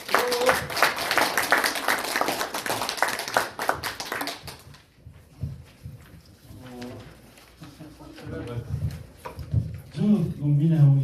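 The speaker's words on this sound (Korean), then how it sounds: "힘찬 박수 부탁드리겠습니다." Audience clapping to welcome a lecturer at a farmers' association lecture, a dense burst of applause fading after a few seconds into someone speaking.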